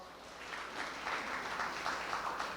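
Soft applause from a small book-concert audience welcoming poet Bok Hyo-geun, a faint, even patter of clapping that carries on for a couple of seconds without speech.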